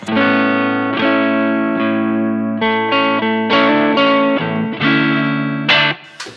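Driven electric guitar, a custom themed Stratocaster through an amp emulator, plays a series of ringing chords and short melodic phrases, with a processed, amp-like tone and no talking.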